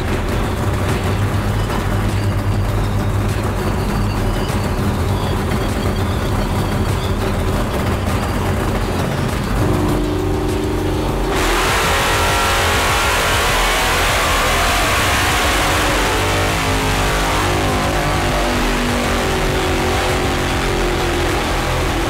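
A naturally aspirated 1969 Chevy Camaro V8 making about 700 horsepower roars under full throttle on a chassis dyno, loud and sustained, its pitch climbing through a long pull before changing character partway through.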